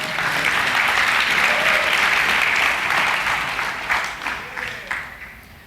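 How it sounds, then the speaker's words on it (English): A conference audience gives a loud, sustained round of applause for a helper before a talk on anarchy and the occult, full and dense at first, then thinning into scattered claps as it fades. "Ladies and gentlemen, a round of applause for David Rodriguez and his help."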